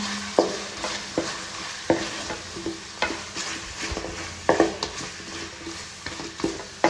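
Chicken being stirred in a hot pan with chili powder and coriander powder, steady sizzle under scraping spoon strokes and occasional sharp knocks against the pan, close up, with no one talking.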